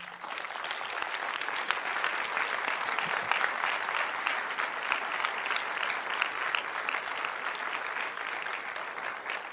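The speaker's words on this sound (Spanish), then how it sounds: "Denle un aplauso a papá, hazlo fuerte." Loud, dense audience applause for a father at a church workshop, sustained and even throughout with no break or talk over it.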